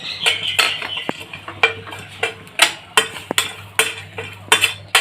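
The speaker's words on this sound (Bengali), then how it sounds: "এক মিনিটের জন্য ড্রাই ফ্রুটসটা আমি ভেজে নিচ্ছি" Almonds and other dry fruits frying lightly in a hot pan while being stirred, giving repeated clinking scrapes of the spoon against the pan over a low steady hum, with no voices.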